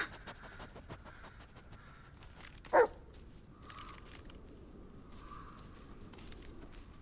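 A dog in the Blair Witch video game gives a single sharp, loud bark against an otherwise quiet, faintly ambient background.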